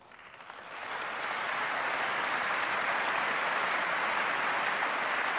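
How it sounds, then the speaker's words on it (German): Applause rises in the German Federal Convention during Norbert Lammert's opening speech for the election of the Federal President, swelling within a second into a broad, sustained roar of many hands that holds steady. "Applaus"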